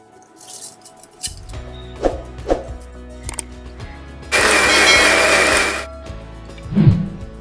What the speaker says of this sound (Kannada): ಉಳಿದಂಥ ಅಕ್ಕಿನ ನಾನೀಗ ಮಿಕ್ಸಿಯಲ್ಲಿ ರುಬ್ಕೊಳ್ತಾ ಇದ್ದೇನೆ